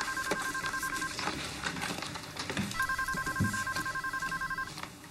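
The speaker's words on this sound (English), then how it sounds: "That would be the phone." A telephone bell rings in two long bursts of a repeating two-tone trill, clear and moderately near, over a busy indoor background with no speech.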